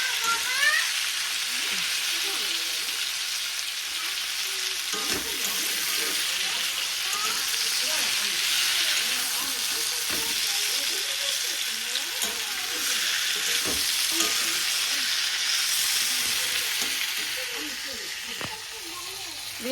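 Fish frying in oil in a pan for a homemade fish curry, a loud, steady close-up sizzle and hiss that runs throughout, with occasional stirring scrapes and clinks and a voice talking faintly beneath it.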